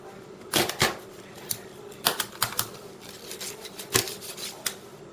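Chang knife cutting through fish for frying, including near the bone: a series of sharp, dry chops and knocks on a board in an irregular rhythm, close and clear without speech.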